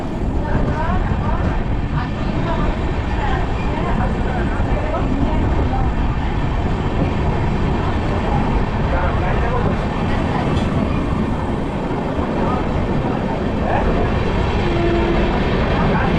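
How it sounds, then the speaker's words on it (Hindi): An Amrit Bharat Express train rolls on after pulling out of Durgapur station, giving a loud, steady rumble and rattle of the carriage with constant low-frequency roar. Faint voices murmur beneath. "ट्रेन निकल चुकी है दुर्गापुर रेलवे स्टेशन से।"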